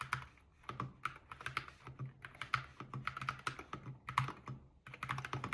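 Rapid typing on a Syntech Chronos 68 Hall Effect keyboard, a loud, steady stream of sharp keystroke clacks with uneven rhythm, close and alone without talk.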